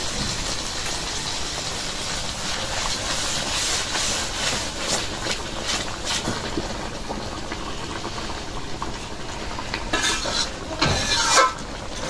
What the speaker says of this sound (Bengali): এখন শুধু হালকা পাতলা নাড়া দিতে দেবো, কারণ বোয়াল মাছ